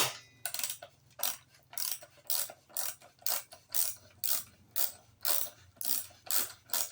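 A ratchet wrench loosens very tight bolts on a lawn mower, giving a regular series of about a dozen rasping pawl clicks in even back-and-forth strokes, close and clear with no talk.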